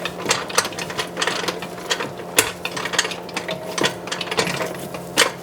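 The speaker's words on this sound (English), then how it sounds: "We're going to reinstall the 18mm nut. We're going to tighten that down loosely." A ratchet clicks in quick uneven runs while tightening an 18mm nut on a CV axle of a 2005-2010 Chrysler 300, crisp close pawl ticks with occasional sharper knocks.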